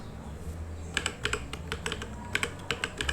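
Fingers type a short command on a computer keyboard, a quick burst of light, crisp key clicks in an uneven rhythm, close and fairly quiet against a low background hum.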